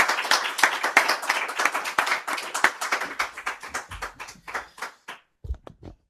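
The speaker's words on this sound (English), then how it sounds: "I hope you could hear that loud round of applause" An audience at a panel discussion on democracy gives a loud round of applause, dense clapping that thins out into scattered individual claps before fading.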